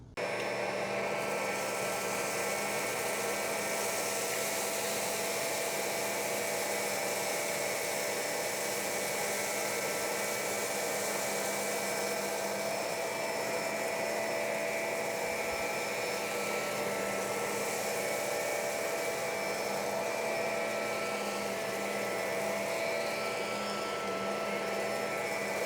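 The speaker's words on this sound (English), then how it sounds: "Today I'm going to do a comparison between this Bissell and Shark vacuum cleaner." A Bissell upright vacuum and a Shark Navigator Lift Away Deluxe run together with a loud, steady motor whine and airflow roar, unbroken the whole time.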